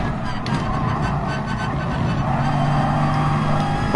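A Bugatti Veyron driven in the racing game GT Sport, with a continuous engine drone and road noise at steady volume. Faint talk sits under it.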